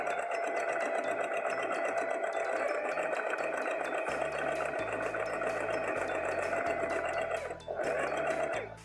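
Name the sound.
sewing machine stitching understitching on skirt pocket seam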